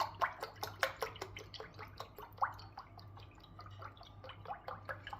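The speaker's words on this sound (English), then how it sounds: "Next, I'm just going to use some coconut milk. And I'm going to pour" Coconut milk trickles and drips into mahamri bun dough in a quiet run of irregular, close wet splashes and plops, with a faint low hum underneath.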